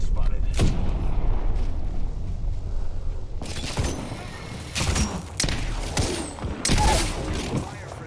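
Gunfire and explosions from a shooter video game come in sharp, loud bursts over constant background battle noise, with several heavy impacts grouped in the second half.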